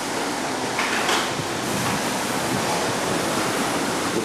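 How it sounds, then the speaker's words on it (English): Hurricane Ivan's storm surge crashes over the deck of a flooding house, a loud, continuous roar of surf and wind with a few heavier surges of breaking water and no voices. "the waves are crashing over the deck"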